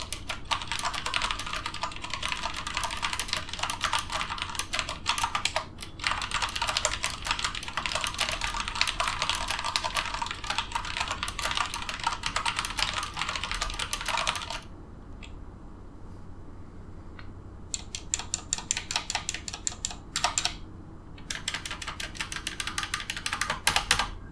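Rapid, steady typing on a cheap DSI modular keyboard with crisp clacking keystrokes, close up, pausing briefly midway before resuming in short bursts, with a low fan hum behind.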